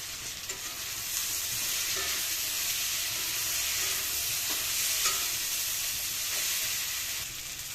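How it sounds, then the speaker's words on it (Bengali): Fish curry sizzles steadily in a pan with a loud continuous frying hiss, while a utensil stirs it with occasional light scraping knocks. "এখানে সব মাছ আমি এখন ঢেলে দিলাম।"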